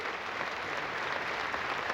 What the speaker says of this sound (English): Give them a big round of applause to Mr. Wally Jones